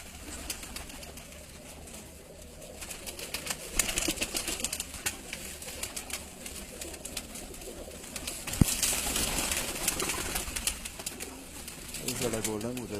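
Golden pigeons cooing in a loft setting, soft repeated coos mixed with bird calls and occasional wing flutters, moderately faint with someone talking in the background.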